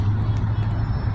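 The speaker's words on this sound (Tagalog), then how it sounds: "ang volume ng sasakyan dito ay napakadami" Heavy car traffic near Jeddah stadium makes a steady, dense engine rumble with a continuous low drone and no distinct passes.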